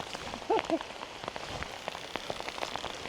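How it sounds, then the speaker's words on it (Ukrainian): Heavy rain falls outdoors at a riverside fishing spot, a steady dense hiss of drops with scattered louder patters, plus a couple of brief sharp knocks near the start. "І нічого не чутно із-за цього дощу"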